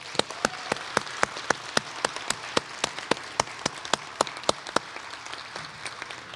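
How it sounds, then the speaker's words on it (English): Audience applause at an adult education graduation ceremony, a sparse, steady run of fairly loud individual claps from a small group. "So another round of applause for these guys."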